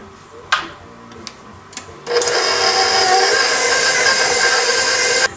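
Butter is scraped and mixed into a crumbly pastry dough for berry and white chocolate squares. A few sharp knocks come first, then a loud, steady, close scraping and mixing noise runs without a break for several seconds.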